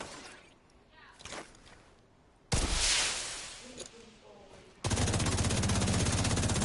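Gunfire erupts in The Division 2 video game: a sudden loud blast, then a dense, sustained burst of rapid automatic fire that fills the end. A faint voice is heard early on.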